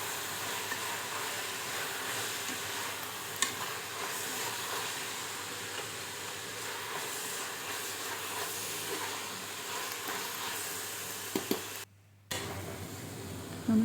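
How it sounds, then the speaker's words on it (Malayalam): Herb leaves frying in a pan for Thalassery dum biryani, a continuous soft hiss and sizzle with faint stirring movement and a brief silent gap near the end, fairly quiet and without talk. "ഇതിൻ്റെ ഈ ഒരു ഇലയുടെ പച്ചമണം കൂടെ മാറുന്ന വരെ നമുക്ക് ഇളക്കി കൊടുക്കാൻ."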